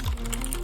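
Typing on a Bluetooth mechanical keyboard with brown switches produces a brief run of close, moderately quiet key clicks in a quick, uneven rhythm.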